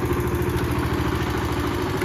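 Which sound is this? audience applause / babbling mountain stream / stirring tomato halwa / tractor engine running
tractor engine running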